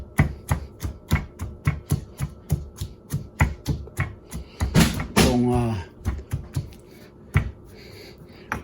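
Ginger being pounded for ginger tea with lemon, a steady series of dull thuds at an even rhythm, briefly interrupted midway by a voice before the pounding resumes.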